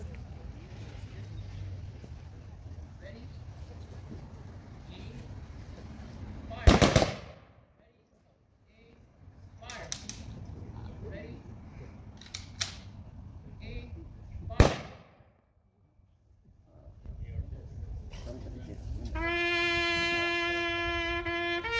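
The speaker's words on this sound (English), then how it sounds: "VFW Post 4748 will now deliver the gun salute." A Veterans Day rifle salute fired by a VFW honor guard outdoors: two sharp, loud volleys several seconds apart echo over a quiet crowd, followed by rising ambient murmur and a brief tonal sound at the end.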